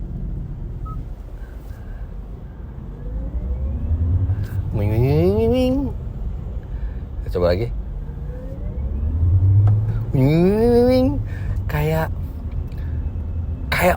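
A 2023 Kia EV6 plays its synthetic cyber-mode drive sound, repeated futuristic rising electronic sweeps layered over a low road rumble. Someone talks in between the sweeps.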